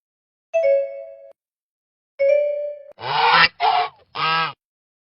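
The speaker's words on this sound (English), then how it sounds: "Goose." Three loud, harsh goose honks come in quick succession right after two ringing chime tones.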